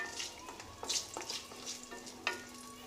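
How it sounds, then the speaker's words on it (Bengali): Urad dal bori frying in hot oil, a quiet sizzle broken by several sharp spits and crackles at irregular moments. "বড়ি কটা ভেজে তুলে নেব।"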